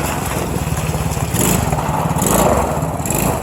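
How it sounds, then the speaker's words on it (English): A new ATV four-wheeler's engine runs close by with a continuous buzzing drone that rises slightly in pitch partway through, loud and steady throughout. "today I am recording Swaggerboss with his new ATV"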